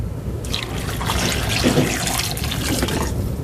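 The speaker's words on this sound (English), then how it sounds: "we're going to be adding in 1 2/3 cup of hot water" Hot water pours steadily from a tap or kettle for vegan mozzarella made with soaked nuts, a continuous close splashing rush of liquid lasting throughout with no talking.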